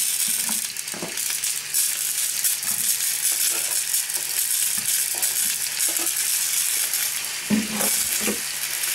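Onion fries in a pan for a sausage pie with a loud, continuous hissing sizzle. Scattered clatters and scrapes of stirring come through, and nobody speaks.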